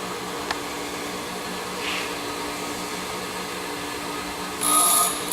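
A grinding wheel sharpening a drill bit hums as a steady, even whine throughout, with a brief harsher burst near the end as the bit is pressed gently against the wheel; no speech.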